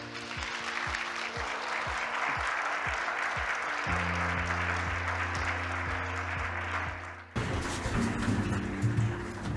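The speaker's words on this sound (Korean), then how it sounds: "큰 박수로 모시겠습니다." Audience applause at a Korean agreement-signing ceremony for the Yeouido Daegyo apartment project, a steady broad wash of clapping held for several seconds over low, sustained background music, broken by a brief dip near the end.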